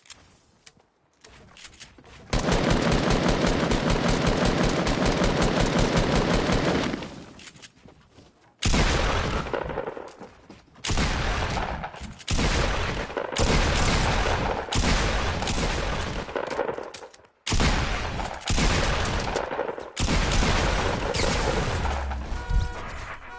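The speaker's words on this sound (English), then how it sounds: "Another pair of people shooting at me, as always." Gunfire in the video game FortyNites: Showdown, with long sustained bursts of rapid shooting broken by short gaps and several separate volleys, loud and close, with no talking.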